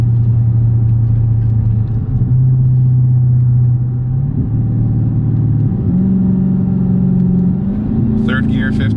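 An 800+ whp Dodge Hellcat pulls hard, its loud engine drone climbing in pitch through a quick gear change, while voices talk over the roar.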